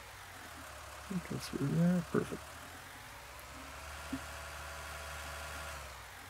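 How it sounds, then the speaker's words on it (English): A tractor engine idles in Farming Simulator 19 as a low, steady rumble running under the whole stretch, with someone speaking briefly over it early on. "So use the tractor and get a little groundwork done."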